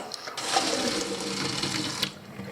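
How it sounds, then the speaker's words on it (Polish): Cold tap water runs steadily over cooked pasta in a kitchen sink, a close, continuous splashing rush with a few brief louder spatters. "zlanie makaronu zimną wodą, czyli hartowanie"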